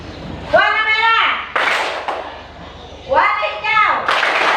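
A classroom of children stand and clap in unison to a chant, sharp hand claps bursting in short groups between a child-like sung voice.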